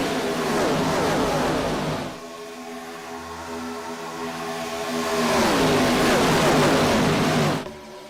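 IROC race cars scream past at Talladega in two loud waves of roaring engines, each rising and falling as the pack passes. A quieter stretch between them carries distant engine drone.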